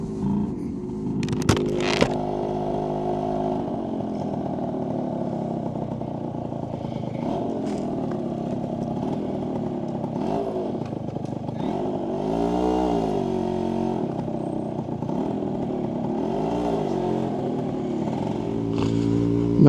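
A small motorcycle engine idles and revs steadily up close, a lively little bike with rising and falling pitch swells, running continuously throughout with a brief clatter near the start.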